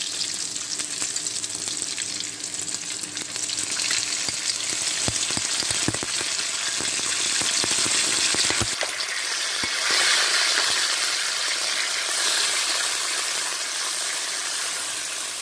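Hilsa fish sizzles and fries in a pan, then pineapple pieces are added, producing a brief clatter and stirring before a steady hot-oil hiss continues loudly and alone.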